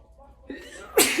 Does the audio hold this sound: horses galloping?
no